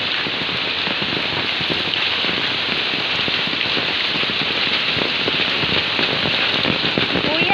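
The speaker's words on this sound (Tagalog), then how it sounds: "Lakas pa ng hangin at ulan." Heavy, steady rain lashing down with wind during Typhoon Ulysses, with branches falling onto a roof; a dense, continuous roar close by with no letup.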